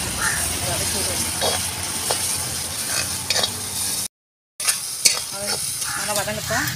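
Ginger garlic paste sautéing in a pan for mutton liver fry gives a steady close sizzle with stirring scrapes, cut by a short silent gap, while someone talks over it.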